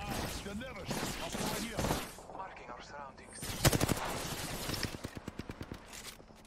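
Apex Legends gunfire arrives in close, loud bursts, first a rattling spray and then a quick string of evenly spaced single shots, while voices talk between and beneath the shooting.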